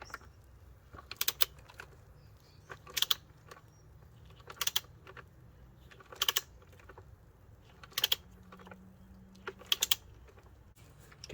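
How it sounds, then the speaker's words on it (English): Ratchet-style torque wrench tightening the back screw of a BMW N52 oil filter housing, six evenly spaced bursts of quick clicking, close and crisp against a quiet background. "Now I've got my torque wrench over here, and I'm going to tighten down the screw at the back to 22 Newton meters"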